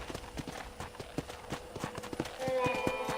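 Horse hooves clip-clop in a steady, brisk rhythm in the Red Dead Redemption video game, with a voice talking over the hoofbeats and a tonal game sound rising near the end.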